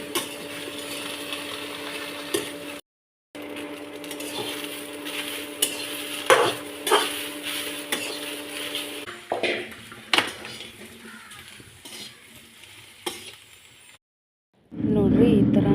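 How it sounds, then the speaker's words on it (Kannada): Okra stir-fried in oil in a pan, with metal utensil scraping and clinking against the cookware in irregular knocks over a low steady background, close by, briefly cut out twice, with a voice speaking at times. "ನೋಡ್ರಿ, ಈ ಥರ ಬೆಂಡೆಕಾಯನ್ನ ಹುರ್ಕೋಬೇಕ್ರಿ"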